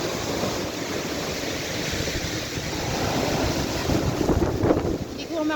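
Typhoon wind roars and buffets the microphone over the constant wash of crashing sea waves on a Philippine shore, loud and unbroken throughout.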